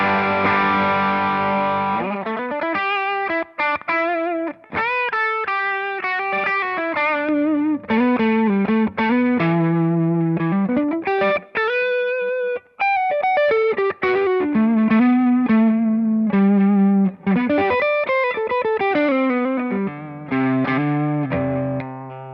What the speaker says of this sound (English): let's kick on a little bit of overdrive with this guy. Just got a Tube Screamer kind of set up here